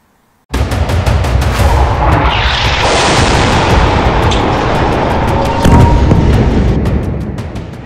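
Israeli air strikes and explosions in Gaza, heard as a loud, continuous roar of blasts and rumbling with sharp cracks throughout, dense and overwhelming, with no voices.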